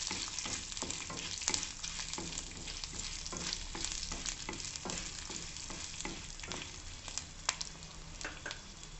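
Two dry red chilies fry in hot oil for an onion chutney, giving a steady close crackling sizzle with scattered sharp pops and stirring scrapes throughout, no voices.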